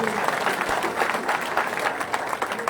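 Dense applause from a crowd at a political rally in Baroda fills the whole stretch, steady and fairly loud.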